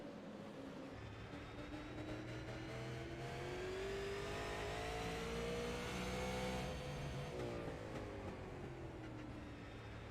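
Onboard a super late model race car at Martinsville Speedway, the engine drones continuously and close, its pitch climbing and then easing through the lap with no voices over it.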